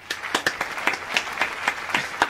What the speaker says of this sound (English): With Tommy Line, everyone give him a big round of applause